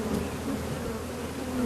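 Honeybees by the thousands beat their wings at an apiary about 3 km outside the city, a soft, continuous low buzzing hum that swells slightly and fades, with no voices.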